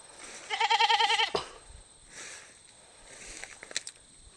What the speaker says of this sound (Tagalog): Dito na yung kambing mo oh.